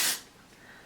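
L'Oreal Extraordinary Clay dry shampoo gives a short, loud aerosol burst of bright hiss, then fades to a faint airy trail.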